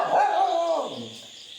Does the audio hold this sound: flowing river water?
no